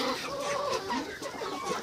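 Domestic chickens cluck softly and steadily at close range while eagerly eating an autumn vitamin feed mash in a farmyard, a continuous low murmur of overlapping calls.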